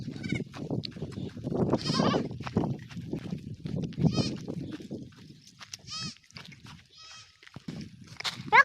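Goats bleat in quavering calls that come several times at irregular intervals, close and fairly loud, over ongoing conversation and background noise on a rural Assamese homestead.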